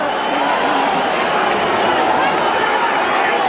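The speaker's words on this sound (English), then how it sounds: "Always difficult to know why a crowd is booing." A large boxing-arena crowd of thousands boos and roars in a continuous loud wash of voices during a Mike Tyson fight against James Tillis.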